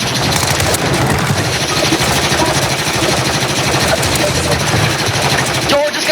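Shotgun fire in the video game Call of Duty: Warzone, dense and loud with sustained blasts and engine-like rumble throughout, busy layered game audio with voices talking over it.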